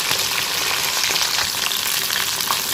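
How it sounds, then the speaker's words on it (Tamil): Chicken 65 pieces frying in hot oil, a dense close bubbling sizzle that stays loud and even from start to finish, with no talk. "சிக்கன் நல்லா வெந்துக்கிட்டு இருக்கு"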